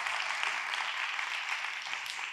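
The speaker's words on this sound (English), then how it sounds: "So an applause to them, please." Audience applause at a design symposium, a steady broadband wash of clapping that holds evenly from start to finish with no voices over it.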